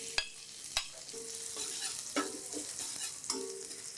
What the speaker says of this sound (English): Wait until the oil is hot enough and add the shallot and garlic.